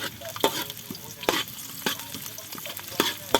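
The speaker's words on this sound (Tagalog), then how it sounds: "susunod na po natin yung bawang. Bawang na konti lang." A small amount of garlic fries with ginger in a pan for native chicken tinola, giving a soft, steady sizzle. Sharp scrapes and clacks from stirring cut in roughly every half second to second, close and clear, with no talking.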